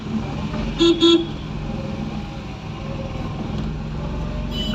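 Heavy road traffic with a steady engine and tyre rumble throughout, and two short car horn toots close together about a second in, with no talking.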